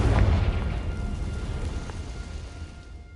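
A Confringo blasting curse goes off in a Harry Potter video game: a loud, boomy explosion with a deep low rumble that peaks early, then a long rolling tail that slowly fades with no voices over it.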